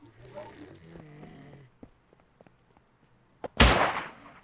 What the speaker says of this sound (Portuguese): Deu tiro nele, cara. Dois tiros nele.